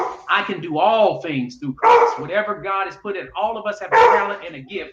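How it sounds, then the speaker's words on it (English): A dog barks in the background of a home while someone speaks steadily over it, the barks largely buried beneath his voice. "That's my dog back there barking."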